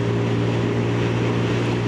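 A Benelli BN125 125cc motorcycle engine, an 18 horsepower single, holding a steady, loud droning hum with a strong low tone and no change in pitch over a brief moment.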